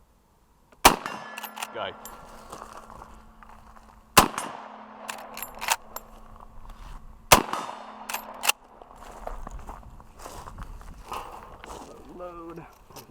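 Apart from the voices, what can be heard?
Henry lever-action rifle shots at a target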